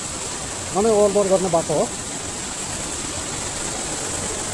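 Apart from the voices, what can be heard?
heavy rain runoff forming a waterfall over the road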